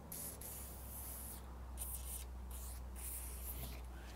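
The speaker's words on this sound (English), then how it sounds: "I'm going to use about a fourth of the can and really spray this latch mechanism" Aerosol lubricant sprayed onto the rear hatch latch mechanism of a 1975–1995 Mercedes-Benz station wagon, a steady close hiss that keeps going with slight pulses for several seconds, with no talking.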